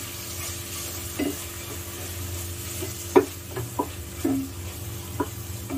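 Onions, coriander and whole green chillies sauté in oil for a Mysore-style chicken biryani, a soft continuous sizzle with a few sharp spoon-against-pan stirring clinks scattered through.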